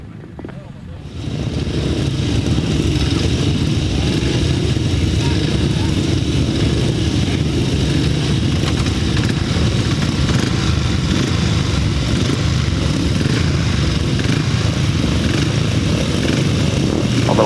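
Loud, sustained roar of several grasstrack motorcycles racing a heat of the 375 class on a Bewdley grass circuit, rising sharply after a quieter opening and holding steady throughout, with a public-address voice speaking over it.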